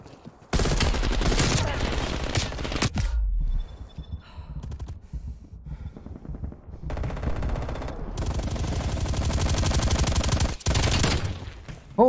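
Gunfire in Call of Duty Cold War gun game: long loud bursts of automatic weapon fire broken by short pauses, close and dominant, with a player's voice heard between bursts.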